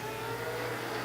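Super Cup stock cars roar together at a race restart, a loud, steady engine drone that holds for a brief moment without voices.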